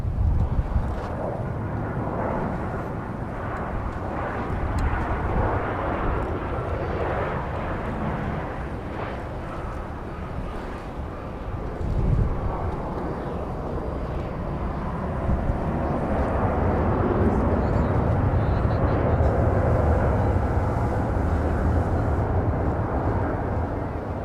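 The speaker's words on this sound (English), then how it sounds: "Meanwhile, Flight 856, Southwest Airlines, is arriving from Pensacola, Florida. This is a 737-700." A Southwest Airlines Boeing 737-700 arrives at Dallas Love Field, Texas, a broad steady jet roar that swells and grows louder in the later part, heard from a distance outdoors.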